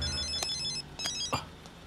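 A telephone rings during a police checkpoint scene where a call from the commissioner comes in, heard as repeated electronic ringtone bursts over a steady background, with no talk during the ringing.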